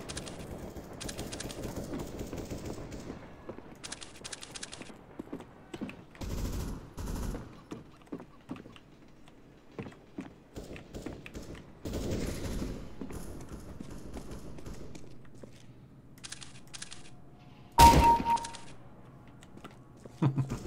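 Rapid bursts of gunfire while shooting bots in a video game, with clustered shot volleys separated by quiet gaps and a louder blast near the end, close and crisp.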